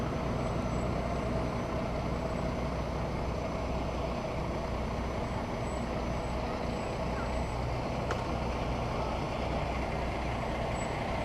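A Beekmantown Fire Department truck rolls past in a parade, a loud steady engine rumble dominating throughout with a brief sharp hiss near the end and faint voices mixed in.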